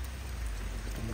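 Rain falls steadily on a pigeon loft in a dense, even patter, close and continuous with no voices.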